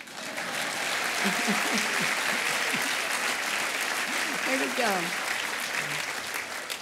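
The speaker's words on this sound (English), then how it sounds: "And that is an applause line." An audience at a speech by Nancy Pelosi breaks into sustained, full applause, loud and even throughout, with a brief voice speaking over the clapping.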